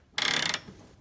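A power impact gun drives 17 mm bolts on a Toyota Prius door, one loud rapid hammering burst of about half a second, then quiet.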